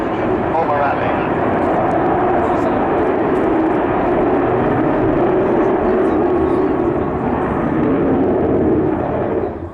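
Avro Vulcan bomber in camouflage colours flying at the RIAT 2009 airshow, a loud continuous broadband engine roar that stays steady throughout.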